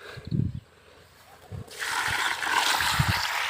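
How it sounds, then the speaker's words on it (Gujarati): Water is poured around the base of a young, dried-out mango tree, starting as a few low splashes and then becoming a steady, close rushing pour. "પાણી થોડુંક રેડ્યું છે ને આપણે થોડુંક"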